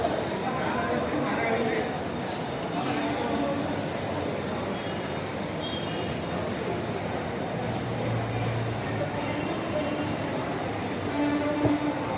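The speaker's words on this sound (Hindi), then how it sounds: "ये आपका मुंबई का बोरीवली स्टेशन है।" Mumbai local train at Borivali railway station: a continuous rumble of rail traffic and station bustle, moderately loud and steady, with voices talking over it.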